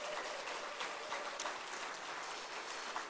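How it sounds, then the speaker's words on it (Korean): A church congregation claps for the elders during a Sunday afternoon service, a faint, steady patter of many hands from across the room lasting the whole stretch, with no speech. "우리 장로님들 박수 한번 세게 하고"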